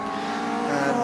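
Saloon race cars on a circuit pass by with a dense, sustained engine roar that builds slightly toward the end, one continuous burst without talking.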